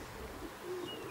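A racing pigeon coos softly at the loft, a brief low burbling call heard faintly against a quiet outdoor background.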